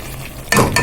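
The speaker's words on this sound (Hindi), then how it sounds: "अब हम इसको करेंगे अच्छे से मिक्स करते हैं" Chopped egg whites being stirred and mixed for egg keema in a pan, heard as a short, close scraping stir with a faint sizzle, a brief clatter of spoon against pan partway through.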